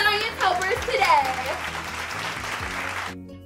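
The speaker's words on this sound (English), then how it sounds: "Let's give a round of applause for our science helpers today." Applause for children acting as science helpers at a kids' church family activity, a steady broadband clatter of clapping with excited voices and shouts over it, ending abruptly after about three seconds.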